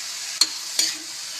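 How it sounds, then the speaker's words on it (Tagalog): A spatula scrapes twice through food cooking in a pan, two short distinct strokes over a faint, soft sizzle. "haloin ulit natin as usual hanggang maluto"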